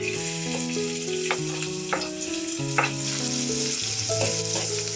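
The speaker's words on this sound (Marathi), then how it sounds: "त्यामध्ये लगभग 4 चमचे तेल टाकलेलं आहे। कांदा ऍड करत आहोत।" Onion frying in about four spoons of oil in a pot, a loud, steady close-up sizzle with occasional stirring scrapes and crackles.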